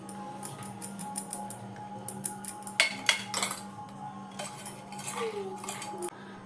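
Salt and sugar powder being stirred into crisp fried flattened rice (chire bhaja) in a pan, giving repeated light metallic scrapes and clinks from a spoon over a steady low hum, with several sharper knocks near the middle.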